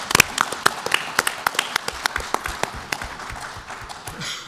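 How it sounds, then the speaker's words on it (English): Audience at an international forum on Korean unification applauding assembly members, with distinct close individual claps in an irregular rhythm over a broader wash of clapping. "Let's give them a warm round of applause."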